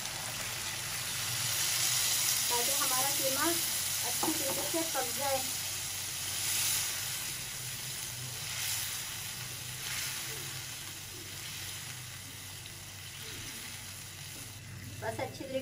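Minced meat (keema) with tomatoes sizzles and fries in a pot as water is poured in, a steady close hiss running under a person speaking.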